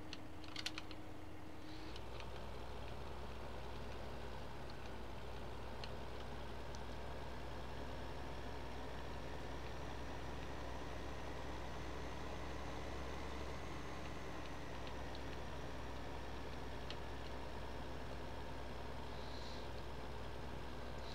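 A tractor engine idles and runs steadily in Farming Simulator 2015, with a cultivator hitched behind; a continuous low hum holds throughout, fairly quiet, with no talk over it.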